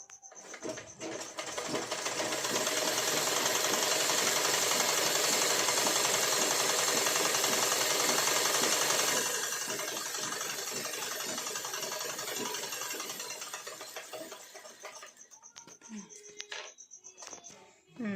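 A sewing machine stitches the border of a saree, running steadily and loudly for about twelve seconds before slowing and fading into lighter handling noises.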